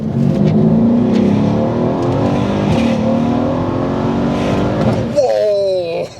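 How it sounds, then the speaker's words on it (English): An 800 hp Mercedes E63 AMG accelerates hard down a straight, its engine droning loud and close with rising pitch throughout, then a sharp shift-like change near the end as the note jumps and climbs again. "let's ease on the power and see what the heck this thing does"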